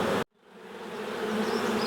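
Honeybees buzz in a dense, steady hum around an open hive, the swarm sound swelling back up after a sudden brief drop, close and continuous with no voices.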